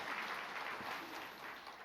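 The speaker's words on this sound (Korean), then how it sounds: "박수 한번 해주시기 바랍니다" A church congregation applauds together during a Sunday worship service, a brief, steady wash of clapping at moderate distance that fills the room evenly and stays fairly soft throughout.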